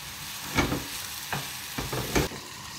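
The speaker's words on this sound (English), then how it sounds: "So you fry them for about 4 or 5 minutes on each side." Pork roulades fry in a pan with a steady close sizzle, broken by a few louder scraping stirs and pan movements at irregular intervals, no talking.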